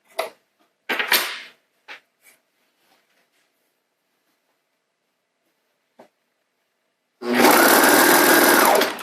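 Sewing machine stitching the edge of pajama pants fabric, a loud close burst of rapid even stitching near the end after scattered handling clicks and near silence.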